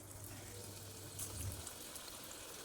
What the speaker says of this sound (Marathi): तेल तापलेलं आहे त्याच्यामध्ये आता आहे भजी सोडायची